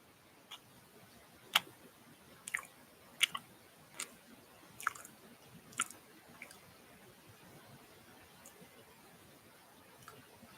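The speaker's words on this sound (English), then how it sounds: "Let's eat some banana." Someone eats a banana up close in a quiet room, giving soft, wet chewing and small clicking mouth sounds in scattered bursts over faint background hiss.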